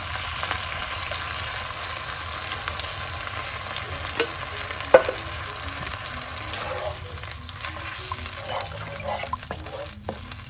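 Grace coconut milk poured into sautéing vegetables in a pan for coconut curried shrimp, a steady soft sizzle with occasional stirring knocks, close and moderate in level, no talk over it.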